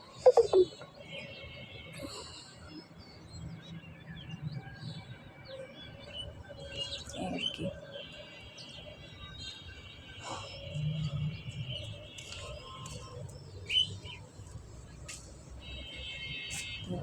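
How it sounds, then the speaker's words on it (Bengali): Pet birds chirping on a sunny rooftop, a faint scattered mix of small tweets and calls over a low background hum, with occasional brief louder chirps near the start. "এ যে আমাদের মহারাজ পাখিগুলো"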